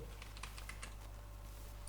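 Rapid typing on a computer keyboard while entering text into a word processor, a steady run of light, close key clicks over a faint constant hum.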